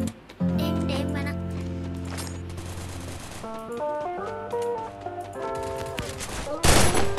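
Rapid bursts of gunfire from the Free Fire video game, dense and loud, mixed with game music tones and sound effects; a sharp burst near the end.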